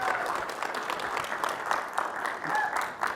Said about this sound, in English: Round of applause for Elizabeth.